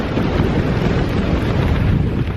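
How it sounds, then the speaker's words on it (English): Strong wind buffets a snowy mountain ridge on Helvellyn's Striding Edge, a dense, roaring gust noise pressing steadily and loudly against the microphone for the whole short stretch, with no voices. "Getting windy though."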